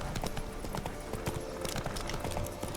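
Roach the horse in The Witcher 3 clip-clops along in rapid, regular hoofbeats, close and crisp, with faint voice fragments underneath.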